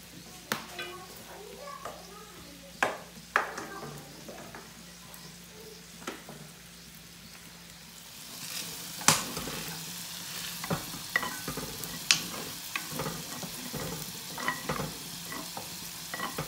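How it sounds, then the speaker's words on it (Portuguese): Food fries slowly on a plow-disc pan over a wood-burning stove, with soft sizzling, scattered crackles and sharp clicks that grow busier partway through, under faint background voices. "fritar devagarzinho, ó."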